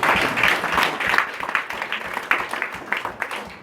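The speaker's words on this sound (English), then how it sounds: "Y'all give yourself a round of applause" An audience at a hip hop speech event applauds and cheers in a sustained, uneven wash of clapping and crowd noise that swells and dips throughout.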